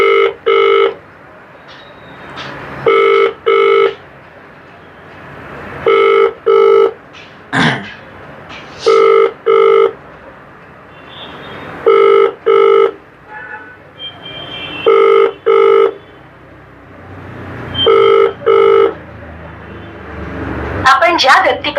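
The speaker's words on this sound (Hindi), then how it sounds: "हम इनसे फोन करके देखते हैं कि इनसे क्या रिस्पॉन्स आता है।" An outgoing call to a cyber crime helpline rings back repeatedly, seven paired electronic rings at steady intervals, clear and fairly loud over faint line hiss, with a brief click and a synthetic voice message starting at the end.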